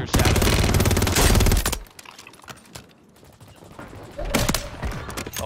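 Video game shootout with rapid automatic gunfire, a loud dense burst of shots for the first two seconds, then quieter scattered shots and another loud volley near the end.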